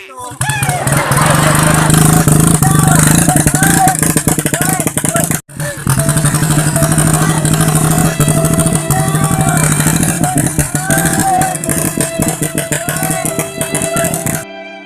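A loud motorcycle engine runs continuously up close, rattling and droning, with a brief cut partway through and voices talking over it.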